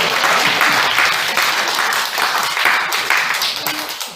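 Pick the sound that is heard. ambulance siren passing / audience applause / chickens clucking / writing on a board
audience applause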